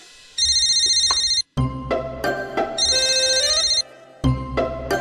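A telephone rings in repeated electronic bursts, loud and close, with other household sounds in the pauses between rings.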